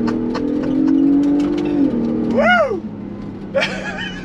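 A 2022 Ford Bronco Raptor engine revs and swells while the truck slides around a dirt course, loud and close, with a man's excited whoop cutting in over the engine noise.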